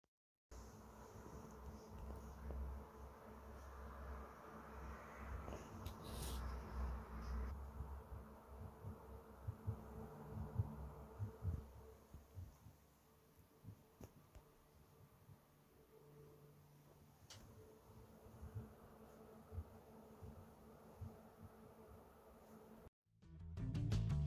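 Noctua U12A 120 mm CPU air cooler fans spinning under a stress test, a faint, steady whirring hum with a light buzzing edge, continuous and quiet with occasional small clicks, no voices.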